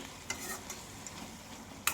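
Quiet, steady sizzling of coriander, mint and tomato cooking in a pan for chutney, with a few soft scrapes from stirring.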